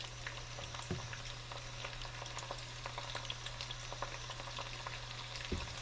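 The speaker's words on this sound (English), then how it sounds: "we're going to sear these on each side and brown them up before we put them into the crock pot." Pork sirloin chops searing in a pan give a steady, quiet sizzle and crackle with scattered pops, one continuous frying hiss and a couple of soft clunks of the pan, no voices.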